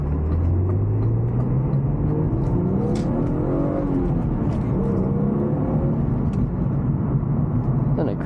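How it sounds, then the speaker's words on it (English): A 1998 BMW M3 cruising on a highway, its engine drone steady and close, with rising and falling pitch as it pulls through the gears under constant road and wind rumble. "Gonna hop on the highway real quick. Just get a feel for how the car drives on there."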